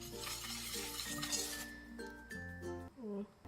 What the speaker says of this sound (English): Mix it together until it's well combined and fluffy